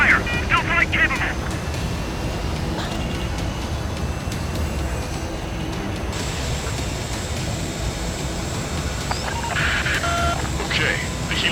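Fighter jet engine roar fills the scene in the Ace Combat 7 video game, with a continuous broadband rush and bursts of high beeping missile-warning tones near the start and end, under radio chatter.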